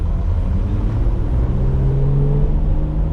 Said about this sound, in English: There's a hard acceleration.